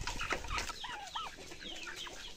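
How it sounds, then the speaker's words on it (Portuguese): Chickens clucking while eating feed: scattered soft clucks and short warbling calls, fairly faint against a busy farmyard background. "Olha, as galinhas tomadas de conta da comida."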